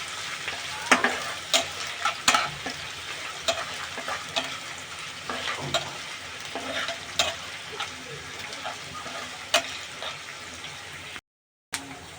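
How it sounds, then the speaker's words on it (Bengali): Three large dried red chillies fry in a pan for a Bengali chicken curry, giving a steady crackling sizzle broken by sharp spattering pops and stirring scrapes, close and alone before a brief cut to silence near the end. "এবার এগুলোকে আমি হালকা করে ভেজে নিব"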